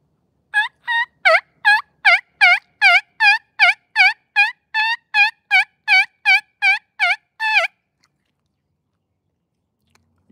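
Turkey call imitating gobbles, about twenty rapid, evenly spaced yelping notes in a close, loud string, then silence.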